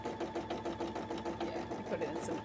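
A sewing machine stitches embroidery onto a cosplay piece, running in a fast, even mechanical rhythm of needle strokes throughout, with voices faintly present.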